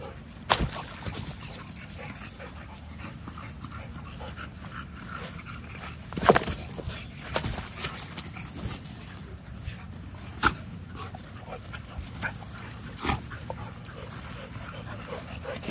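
Dog whimpering softly at home, faint whines over a low background, with occasional sharp knocks and thuds scattered through.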